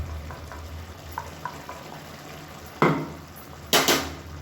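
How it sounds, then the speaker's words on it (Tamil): Mushroom kurma with curd simmers and bubbles in a pan, a quiet steady sizzle broken by a few light utensil taps and two loud scraping stirs near the end. "இப்போ தயிர் ஊற்றி நல்லா கொதிக்குது"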